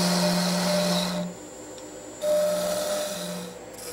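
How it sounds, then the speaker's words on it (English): Wood lathe turning a workpiece while a small-diameter gouge cuts, a steady whining hum with a harsh cutting rasp that drops away briefly midway and then resumes, close and clear. "For this feature, I'm using a smaller diameter gouge."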